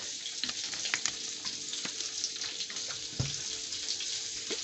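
Vinegar splashing into a hot pan while beef burgers cook, a running pour over a crackling sizzle with small spits and pops, close and fairly quiet, no talking.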